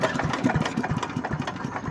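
Simplicity leaf vacuum shredder with a 206cc horizontal engine, running with a rapid, even chug at moderate loudness right after being started, with no talk.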